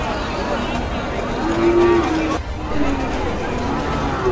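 At a muddy Qurbani cattle market in Charmonai, Barisal, a short low moo rises briefly out of a crowd's constant chatter and nearby talking.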